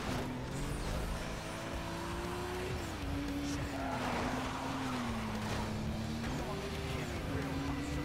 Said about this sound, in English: Drifting!